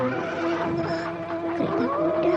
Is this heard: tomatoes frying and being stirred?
no